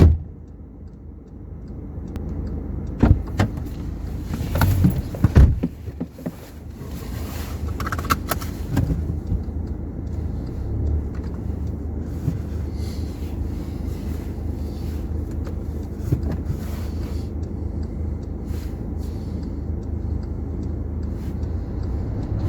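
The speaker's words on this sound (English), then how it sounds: "It's time for us now to jump in the car and actually go and visit some of these places." A car drives along a road, its engine and tyre rumble steady under gusting wind buffeting the microphone, with a few louder knocks near the start.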